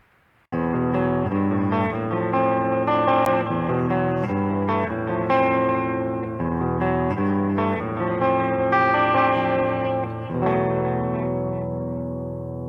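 Clean electric guitar chords and single notes ring out through a tube amplifier, played steadily with a light shimmer and sustain, no voices.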